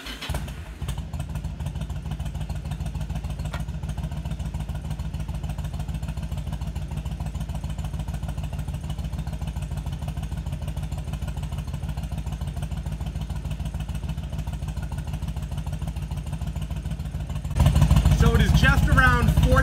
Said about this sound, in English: And now I'm going to turn on the bike.